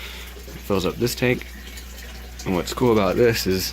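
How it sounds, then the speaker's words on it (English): Water falls steadily from a pipe into a tank in a gravity-fed greenhouse system, a constant low background wash beneath someone talking up close. "that's the water you hear falling back there"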